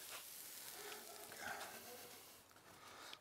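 Lamb koftas sizzle over hot barbecue coals, a steady close crackling hiss that stays even throughout with small pops.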